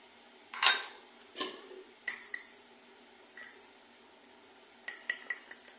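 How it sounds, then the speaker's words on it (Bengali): A spoon clinks and scrapes against a bowl while chili powder is stirred with water, irregular close strikes at first, then a pause and a quick cluster of lighter taps. "নিয়ে আমি এটাকে জল দিয়ে এটাকে আমি একটু গুলে নেব।"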